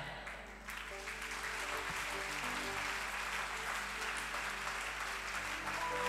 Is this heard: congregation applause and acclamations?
yes